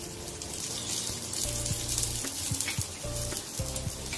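Aloo kulcha frying in ghee on a hot pan gives a steady, close sizzle with crackling spatter throughout, and no talking over it.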